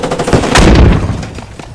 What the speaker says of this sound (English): We got infantry firing.